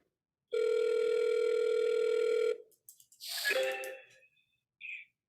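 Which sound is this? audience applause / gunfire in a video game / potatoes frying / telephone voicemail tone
telephone voicemail tone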